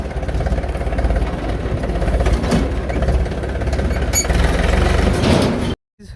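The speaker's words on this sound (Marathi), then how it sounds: "हॅलो बघा ट्रॅक्टर लावून आता बारका ट्रॅक्टर घेतला आपला ऑक्स" A small Ox tractor's engine runs close and loud with a steady, rough, knocking idle and a faint squeak, holding constant for about six seconds before cutting off abruptly.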